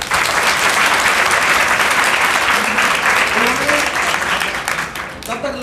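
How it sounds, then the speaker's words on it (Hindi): Loud, sustained applause from an audience at a career counselling event, dense clapping filling the whole stretch and tapering slightly near the end. "तो एक बार अनिल जी के लिए जोरदार ताली"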